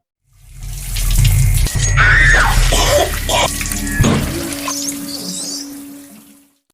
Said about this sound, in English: She then goes to take a shower to get ready for the barbecue.